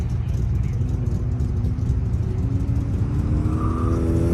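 Autocross race car accelerating around a cone course, a loud close engine roar holding a steady drone with pitch climbing slowly as it powers out of a turn, no voices over it.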